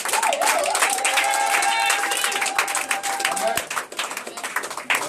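A church congregation at a deliverance service in Morocco claps and cheers in praise, a dense steady wash of applause with voices rising through it, close and loud for the whole stretch before thinning slightly at the end.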